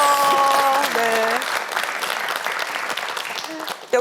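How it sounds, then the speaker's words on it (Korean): Crowd applause fills a Korean TV broadcast special right after a young trot singer introduces himself; a voice is briefly heard over the start before steady, dense clapping carries on for a few seconds. "박수 한번 주세요."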